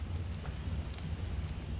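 Steady rain falling in the video game ARK, a dense continuous hiss with a low rumbling undertone, even and unbroken throughout with no talking.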